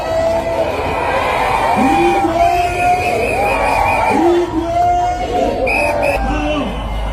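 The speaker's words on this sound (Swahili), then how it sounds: "kuwapigie shangwe na vigelegele" Wedding crowd cheering and ululating outdoors, with wavering high trills riding over a dense, loud roar of voices that carries on steadily throughout.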